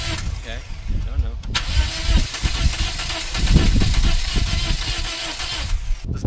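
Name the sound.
Toyota Corolla engine cranking but failing to start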